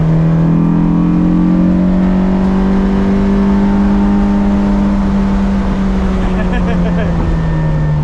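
A K24-swapped Honda S2000 on a race track holds a loud, steady engine note that climbs gently and then eases, with a continuous drone of road and wind noise around it.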